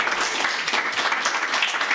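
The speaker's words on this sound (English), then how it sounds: "Let's give him a round of applause for trying." A live audience at a talk in Indianapolis claps steadily, a dense, even wash of many hands heard close and fairly loud, with no pauses.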